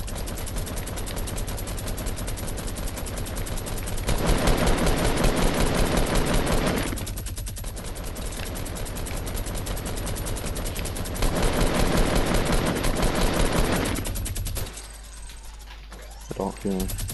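Rapid automatic gunfire in Fortnite Battle Royale, long dense bursts of loud rattling shots with brief pauses between them, ending in a short quieter gap with a player's voice.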